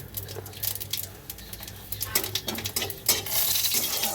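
Panch phoron spices crackle and pop in a little oil in a pan, fast irregular ticks and spits with brief louder bursts, close and fairly faint.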